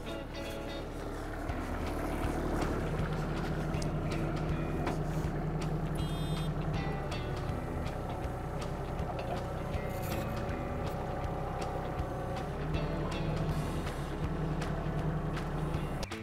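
A mini-excavator lifts a post-hole auger, its engine droning steadily with a whining hydraulic tone and some clanks, loud and close throughout with no talking.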